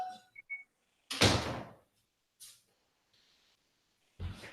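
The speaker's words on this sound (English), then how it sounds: "I'm gonna close the door." A door being closed indoors, with a short rustle, then a loud slam-like thud and a couple of fainter knocks and scrapes afterward, close by in a quiet room.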